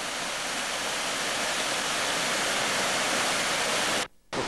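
Rushing river water at the Verla paper mill museum in Finland, once used to power the mill; a loud, steady broadband roar that continues without a break, then cuts out briefly near the end.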